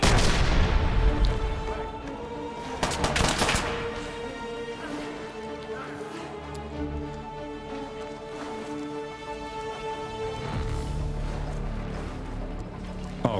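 Gunfire in Fallout 4, with a few sharp reports ringing out early on before a long, fading tail of rumbling, echoing booms and a steady background hum.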